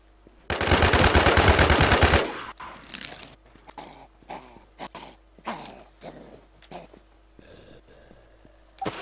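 Video-game gunfire aimed at the player, a dense loud burst of rapid shots for about two seconds, then scattered single shots and thuds at lower level with brief talk between.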